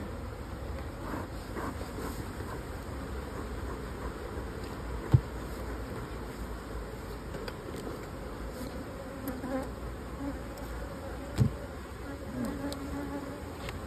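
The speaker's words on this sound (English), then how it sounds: "it really ticks the bees off when you start lifting combs up that way" Agitated honey bees buzzing around an open single brood chamber hive as combs are lifted, a dense continuous drone with a couple of sharp clicks.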